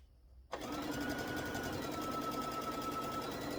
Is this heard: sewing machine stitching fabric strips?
yes